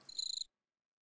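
Crickets in the Minecraft woods give a brief, high, buzzing chirp of several quick pulses, clear and close, then cut off into silence.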